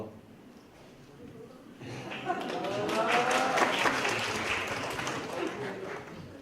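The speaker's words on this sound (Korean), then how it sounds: "이제 박수는 안 치셔도 돼요" Applause from a talk-concert mentoring audience swells in after a quiet, murmuring start, building into a moderate, sustained patter of clapping through the rest.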